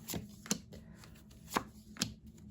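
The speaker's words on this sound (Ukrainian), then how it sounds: "ви чуєте, що я перемішую колоду" A tarot card deck is shuffled up close, with four crisp, separate slaps and riffles spaced unevenly against a quiet background and no voices.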